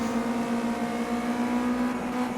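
Race car engine from Project Cars 2 in a Ginetta career race, a steady loud drone holding one pitch with light gear noise, sustained through the whole stretch with no talking.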